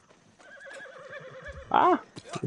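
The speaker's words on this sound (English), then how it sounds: "Let's get on the horse." A horse in the video game Far Cry 6 whinnies with a wavering, drawn-out call, rising into a louder final burst, with faint clopping behind it.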